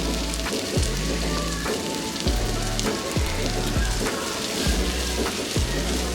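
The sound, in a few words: spring onions frying in oil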